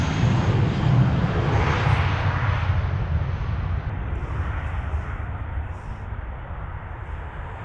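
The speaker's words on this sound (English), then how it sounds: "A320, they're off to Berlin." An Airbus A320 jet airliner bound for Berlin passes at Heathrow Airport with a loud, broad engine roar that is strongest at the start and gradually fades as it moves away.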